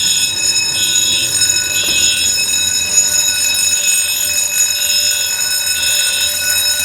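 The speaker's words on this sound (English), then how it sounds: "gonna pull the alarm." A fire alarm system under test gives a loud, continuous electronic alarm tone with a pulsing high-pitched warble, steady throughout with no voices.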